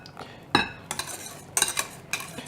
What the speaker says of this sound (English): We're going to stir this for a few minutes to get all this well incorporated.